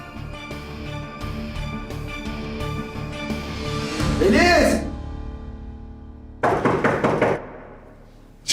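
Several sharp knocks on a door in a Turkish TV drama scene land in a quick cluster, followed by a later burst of rapid pounding, set amid music and talking voices.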